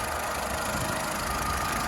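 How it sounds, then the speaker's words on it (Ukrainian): A Skoda Fabia engine idles steadily and evenly at close range, a continuous mid-pitched hum with no surges and no voices over it. "Двигун працює рівненько, оберти не плавають"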